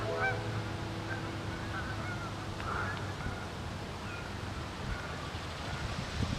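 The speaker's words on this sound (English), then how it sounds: "Look at the ducks." Ducks honk faintly in the distance, scattered calls over a steady outdoor rush of wind or water.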